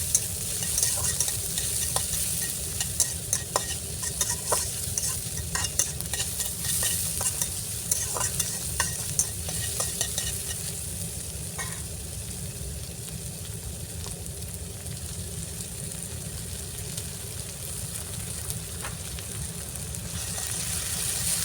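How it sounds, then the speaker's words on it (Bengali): Onions and green chilies frying in oil in a wok, giving a loud, continuous crackling sizzle with frequent scraping stir strokes that stays steady throughout and has no voices. "পেঁয়াজ, কাঁচামরিচ দিয়ে একটু ভালো করে ভেজে নেব"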